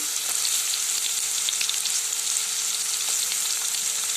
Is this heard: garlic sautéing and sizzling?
yes